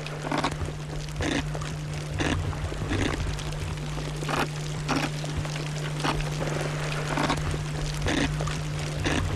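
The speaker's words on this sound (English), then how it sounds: "That is the uhu scraping on dead coral." Parrotfish scrape at dead coral on a reef, caught underwater as a series of sharp, regularly spaced crunching bites over a constant low hum and wash of water.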